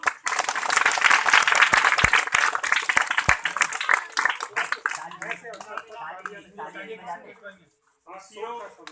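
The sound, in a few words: audience clapping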